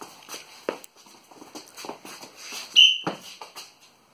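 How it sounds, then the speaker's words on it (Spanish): A sharp referee-style whistle blown once as a stop signal during a children's movement class in a gym, cutting in clearly over the shuffle of small feet moving around the room. "Cuando toque el silbato, os tenéis que parar"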